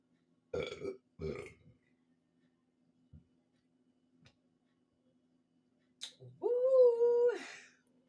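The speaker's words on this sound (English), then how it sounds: "for all you burp lovers." During a stuffed cabbage and stuffing mukbang, two short bursts open the clip, then near the end a long, loud, voiced burp swells and fades in a quiet room, with a few faint clicks between.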